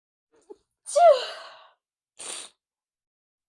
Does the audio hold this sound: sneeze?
yes